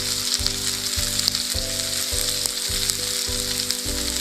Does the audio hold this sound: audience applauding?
no